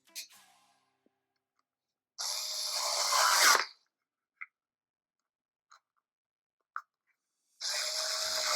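A power screwdriver drives screws back into the plastic cover of a MyQ garage door opener in two short whirring bursts, separated by quiet pauses with a few soft clicks and taps close by.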